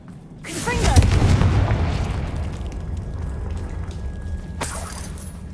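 A Confringo fire spell blasts in Hogwarts Legacy: a sudden deep, booming explosion with a roaring burst that swells and then fades into a long rumbling tail, with a brief bright crackle near the end.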